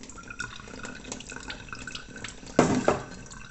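Water spilling out of the reservoir overflow of a home tattoo removal laser as it fills, a steady close trickle and drip with a brief louder gush near the end.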